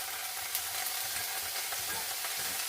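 Agathi flowers go into a hot frying pan with onion for a Kerala thoran, giving a steady, close sizzle of frying that runs evenly throughout with faint stirring.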